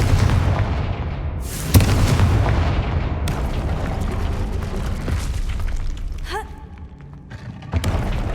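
Confringo fire spell explosions in Hogwarts Legacy, a loud blast followed by rumbling booms and magical effects, with game sounds continuing around them.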